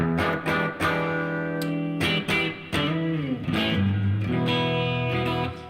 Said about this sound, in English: This is just distortion right here.